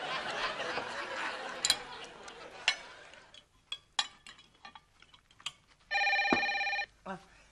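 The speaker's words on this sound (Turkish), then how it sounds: "Telefon çalıyor." A telephone rings once with a bright electronic trill near the end, following some talk and scattered clicks.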